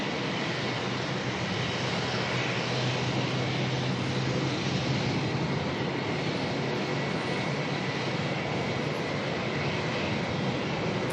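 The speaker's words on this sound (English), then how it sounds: "Jetstar 521 coming on in here from Sydney" A Jetstar Airbus A321neo jet arriving at Melbourne from Sydney, heard as a steady, dense engine roar held at an even level throughout, with no talk.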